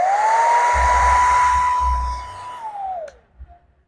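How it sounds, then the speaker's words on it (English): Hand-held hair dryer blowing loudly and steadily, a sustained whine and rushing air for about two and a half seconds before it winds down and switches off, followed by faint handling knocks. "I'll be drying up my hair with my hand dryer, just like very fast."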